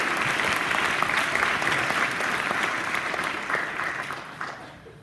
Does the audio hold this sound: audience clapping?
yes